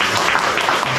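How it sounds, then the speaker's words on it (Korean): A church congregation applauds together to welcome a visiting guest during a service, a dense, steady wash of clapping that fills the whole moment without letup. "우리 다 같이 박수로"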